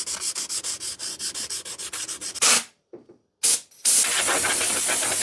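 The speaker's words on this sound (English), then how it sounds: "So let's sand our seams first." Sanding car body seams with 320 grit sandpaper: a rapid series of rhythmic rasping strokes, then brief pauses and short bursts before a sustained hissing scrub, close and loud with no talking.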